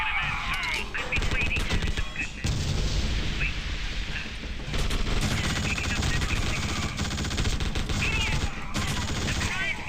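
Rapid gunfire shooting at shields in The Suffering, dense bursts and volleys loud and continuous across the whole stretch with game effects mixed in.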